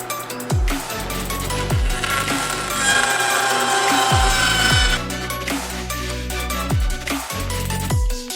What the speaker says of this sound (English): I just got both pieces sawed down to size so that they'll fit perfectly in the mold